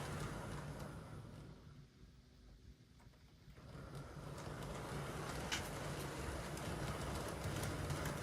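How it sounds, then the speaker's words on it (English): Short rake of model conflat wagons on metal wheels rolling over curved Setrack points, heard as a steady, faint metallic rumble that dips briefly and then picks up again, with no voices. "Next on test were a short rake of Rapido Trains and Graham Farish conflat wagons,"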